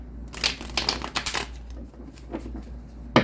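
Tarot cards being shuffled by hand in a quiet room, with a few scattered bursts of papery riffling and crinkling, ending in a brief sharp tap near the close.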